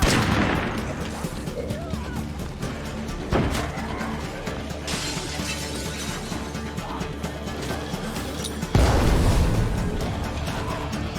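Gunfire in a zombie-survival video game on a strip mall map, with a few loud, sharp shots at roughly even gaps amid crashing in-game noise and no one talking over it.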